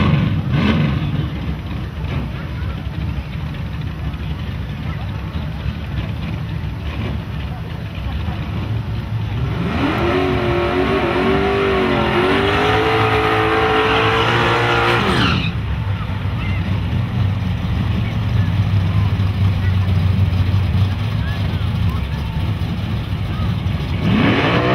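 A drag racing car at Nahunta's run-what-you-brung event roars past, its rising engine pitch sweeping up and sustained for several seconds over constant crowd and track background noise, with people talking nearby.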